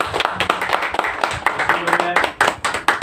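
Audience applause at a monthly Hindi poetry gathering, dense clapping from a crowd that rises and falls in waves over a few seconds, mixed with a murmur of voices.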